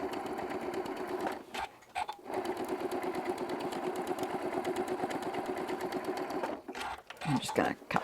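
Janome M7 sewing machine top stitching with an HP2 foot, a steady close motor whir with rapid needle rhythm running almost continuously, pausing briefly twice.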